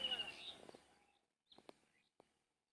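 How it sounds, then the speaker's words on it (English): Birds chirp outdoors on a quiet morning, a few short, faint, scattered calls following a soft breathy murmur at the start, with near silence between them. "The bird is chirping around me"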